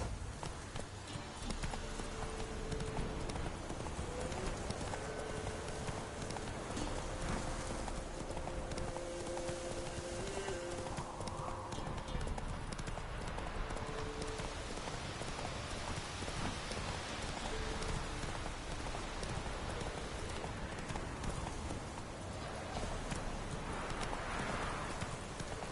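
A horse gallops in The Witcher 3 video game, its hooves clip-clopping steadily and close for the whole stretch while rain patters in the background.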